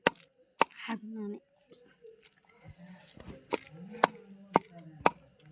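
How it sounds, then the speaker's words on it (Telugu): Onions being pounded in a stone mortar for a hand-ground chutney, with sharp irregular thuds and crunches spaced a second or so apart, close up, as a voice talks in between. "ఉల్లిగడ్డ వేసి దంచుతుంది."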